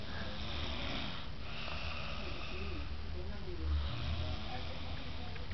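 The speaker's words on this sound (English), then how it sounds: "She just recently started snoring." A woman snores in steady, rough breaths, a low rasping rumble that swells and fades, fairly loud against a faint background hiss, with a brief soft voice nearby.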